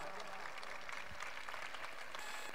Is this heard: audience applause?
yes